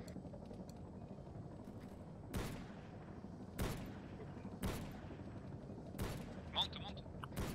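Gunfire rings out in an Altis Life (Arma) role-play game during a bank standoff: several sharp, isolated shots spaced roughly a second apart, heard faintly over a quiet background.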